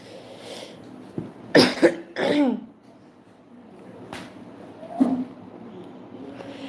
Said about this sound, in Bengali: আমার হচ্ছে কাশি হইতেছে